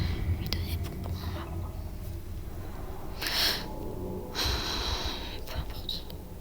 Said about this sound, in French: On entend ses respirations agrandies.